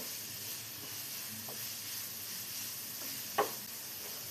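Green chillies and curry leaves sauté in a pan with a soft, steady sizzle, joined by a few faint stirring scrapes and one brief sharper clink near the end, quiet and close with no talking.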